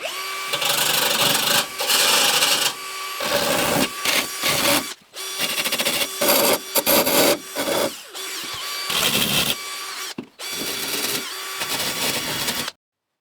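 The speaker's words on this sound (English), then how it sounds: "I will use a rotating steel brush to get all the rust removed from the old holes." A rotating steel wire brush grinds rust out of old holes in the metal interior of a campervan, a loud, continuous rasping whine broken by frequent short pauses as the tool is lifted and reapplied, with no talking.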